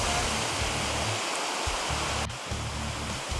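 A Colorado mountain creek on the La Plata Peak trail rushes steadily and loudly, a constant broad hiss of flowing water with some low rumbling underneath.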